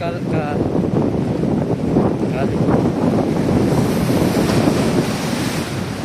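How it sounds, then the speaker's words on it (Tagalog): Strong waves roll in during rain at Barcelona's Barceloneta beach, a loud continuous surf roar mixed with heavy wind buffeting the microphone. "Ulan, ang lakas pa ng alon."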